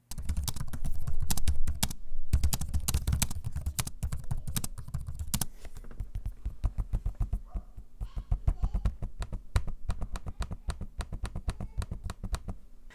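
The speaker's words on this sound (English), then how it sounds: "if you're curious about how it sounds to type on the keyboard and use the trackpad" Typing on the keyboard and trackpad of a 2022 Asus TUF A15 laptop: a close, dense run of quick plastic key clicks, loudest at first, then sparser, crisp individual taps, with no talking.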